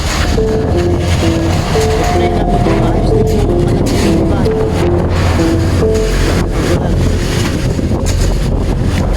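Powerful wind from Typhoon Emong in the Philippines roars loudly and without letup, with a wavering tonal whine riding over the heavy rushing noise.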